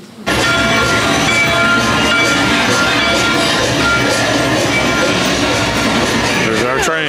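The ride vehicle of Mickey and Minnie's Runaway Railway at Hollywood Studios gives off a loud, continuous rolling rumble that starts abruptly and holds steady, with voices heard over it.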